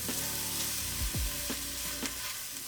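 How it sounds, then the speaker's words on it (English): Minced garlic sautés in hot oil with onions, giving a soft, steady sizzle broken by a few short scrapes and knocks as the pan is stirred. "let's saute that for another minute or 2"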